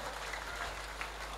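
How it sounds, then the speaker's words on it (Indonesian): Steady applause from a large crowd during a speech at the 2017 Petik Laut festival in Muncar, Banyuwangi, a continuous even patter of many hands clapping, sounding somewhat distant and filling the whole moment. "Tepuk tangan buat rakyat Banyuwangi."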